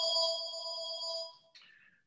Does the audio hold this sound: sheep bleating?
no